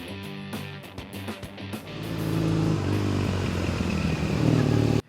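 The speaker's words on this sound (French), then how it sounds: "la sonorité de ce moteur, qui est très sympa, très typique, un petit peu rauque, un petit peu lent dans le rythme" A Triumph Bonneville motorcycle engine runs close by, a steady, slightly husky and unhurried idle-to-rev drone that swells louder midway and holds there, with faint mechanical clatter and no talking.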